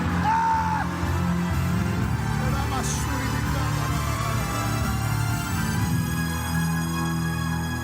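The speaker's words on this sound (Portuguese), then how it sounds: "Dê um berro de glória a Deus bem forte." A church congregation shouts praise to God loudly and together, a dense, sustained roar of yells and whoops that fills the hall for the whole stretch without letting up.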